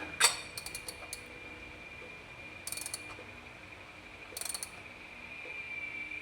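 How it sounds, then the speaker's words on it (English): A ratchet wrench turns a car's oil drain plug, giving three short bursts of quick metallic clicking spaced a couple of seconds apart, faint against a quiet background hum. "So I'm gonna use a wrench."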